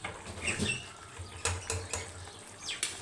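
A spoon scrapes and clinks against a pan while dried fish thokku is slowly stirred, giving intermittent metallic taps and soft scraping over a faint kitchen background.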